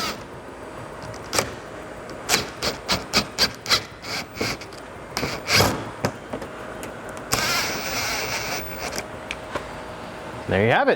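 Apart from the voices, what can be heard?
power impact gun fastening splitter nuts on Toyota GR86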